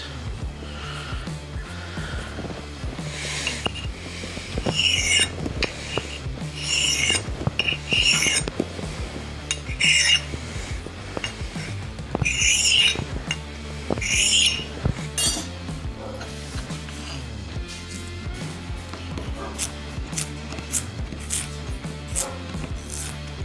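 An onion is diced on a board with a herb chopper made from an old steel file, giving a run of crisp rhythmic chopping taps, loudest early and thinning out toward the end, with a low steady hum underneath.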